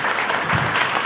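A crowd claps at a motivational business seminar, loud, dense and steady, filling the whole short stretch with close, even patter and no voices.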